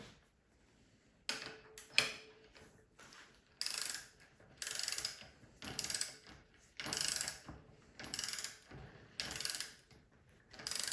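Ratcheting wrench clicks in repeated bursts as a bicycle crank axle, threads dabbed with blue threadlocker, is tightened to 54 foot-pounds on a Cyclete separable thru-axle assembly; close, loud ratchet strokes separated by short pauses.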